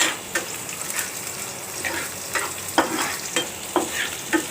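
Garlic frying in a pan of hot oil, stirred steadily with a spoon, giving a continuous close sizzle broken by sharp scraping clicks as the utensil hits the pan.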